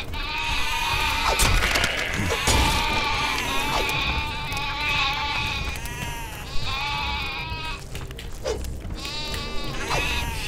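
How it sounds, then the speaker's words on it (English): Many sheep bleat in a video game, Overlord: Raising Hell, with overlapping wavering calls repeating steadily across the whole stretch over a constant busy in-game background. "I was about to say, I hear sheep."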